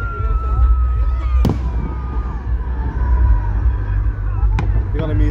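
An outdoor fireworks display at Runcorn and Widnes: a constant deep rumble of distant explosions with sharp cracks standing out above it, and high whistling streaks over the top.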